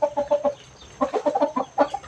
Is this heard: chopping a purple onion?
no